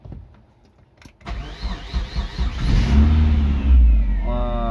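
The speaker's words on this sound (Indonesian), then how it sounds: "Oke, langsung kita hidupin mesinnya." The 1800 cc engine of a used manual car cranks briefly with a starter whir and then catches, settling into a loud, close idle with a rising rev.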